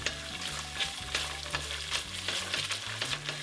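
Tomato puree sizzles and spits in a hot pan while a spoon stirs and scrapes it around, a dense crackle with irregular scraping taps, close and with no talking.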